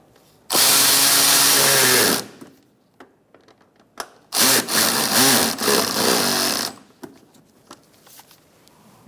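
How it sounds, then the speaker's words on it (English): Power tool tightening a nut on a Buick Encore fender liner, two loud close bursts of whirring rattle, about two seconds each, separated by a short pause with small clicks. "Now we can tighten up this nut."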